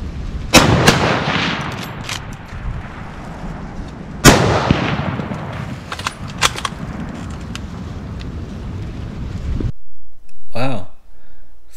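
Hunting rifles fired outdoors during a New Year's Day doe cull: a sharp nearby shot, a second loud blast a few seconds later, and scattered fainter distant reports, with wind buffeting the microphone near the end.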